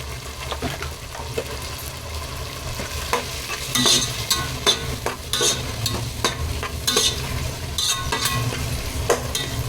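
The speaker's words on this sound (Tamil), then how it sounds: "எல்லாத்தையும் நல்லா வதக்கிடலாம். ஸ்டேஜில் நான் இஞ்சி பூண்டு பேஸ்ட் ஆட் பண்ணிக்கிறேன்." Ginger garlic paste sautéing for chicken biryani with mint, a steady close sizzle under repeated scraping stirs of a spoon in the pan, no talking.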